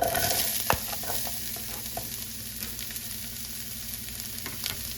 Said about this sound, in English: We're just going to saute these off until they get semi-translucent.